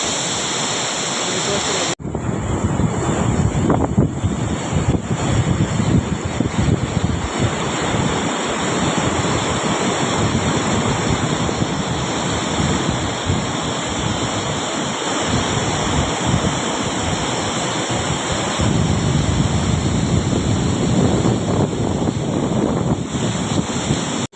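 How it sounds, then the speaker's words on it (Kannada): Water rushes steadily through a single open gate of a small village dam at Rajalabanda near Manvi, a loud, continuous roar with wind buffeting the microphone throughout. "ಒಂದೇ ಗೇಟ್ ಓಪನ್ ಮಾಡಿದ್ದಾರೆ"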